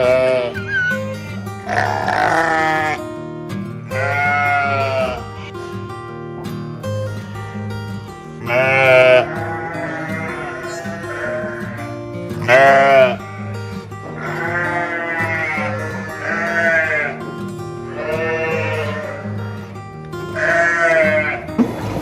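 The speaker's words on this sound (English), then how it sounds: "there were loads of little lambs and lots of sheep which were all very," Sheep and little lambs bleating at a petting zoo farm, repeated loud wavering calls from several animals close by, coming every couple of seconds with some overlap and short pauses between.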